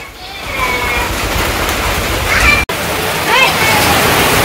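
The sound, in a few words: heavy rain falling in a village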